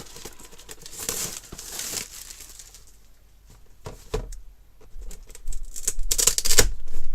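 Packaging of a gaming mouse being opened, with bursts of crinkling, tearing and rustling that come and go, loud and close, separated by a quieter stretch.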